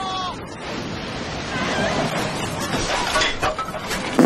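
Stormy sea with wind and crashing waves in a Lovecraftian horror film, a continuous roaring wash that swells toward the end, with faint voices mixed in at the start.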